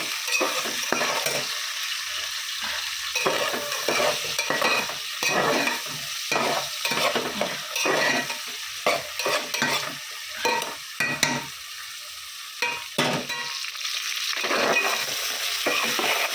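Chopped garlic leaves fry in a pan alongside onion and capsicum, a close hissing sizzle broken by rapid rhythmic stirring scrapes that come in bursts and pauses, with no talking.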